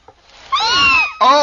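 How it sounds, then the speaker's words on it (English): Kittens meowing close by, a drawn-out rising and falling cry followed after a short gap by a second loud mew, with a faint click just before. "What is it, not gulls? Kittens."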